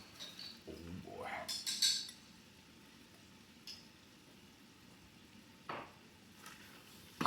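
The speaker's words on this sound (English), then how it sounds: "I'm gonna get all them peppers and all them onions up in there." Chopped peppers and onions tipped into a chili pot, giving a short scraping and clattering burst with a soft sizzle, followed by quieter cookware knocks and a faint hiss of cooking.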